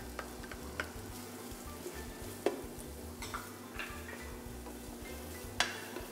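Chopped onion fries in rendered bacon fat in a pan, giving a continuous, even sizzle with occasional sharp ticks and clinks from a utensil against the pan.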